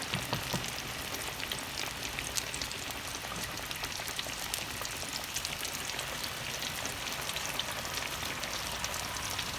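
Chicken pieces fry in a frying pan of hot oil, giving a dense, even crackle and sizzle with scattered pops, steady and fairly soft throughout with no voices.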